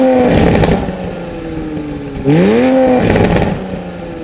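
Toyota Supra MK5 with an AFE catted downpipe revs twice in short bursts, a loud, deep exhaust rumble rising in pitch and falling away between blips.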